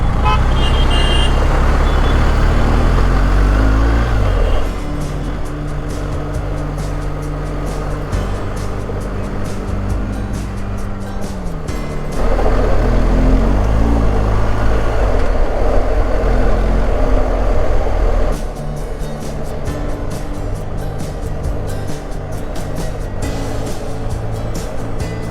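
Motorcycle riding along the road, a steady engine drone with wind rush that rises and falls as the throttle changes, close and fairly loud with no talking.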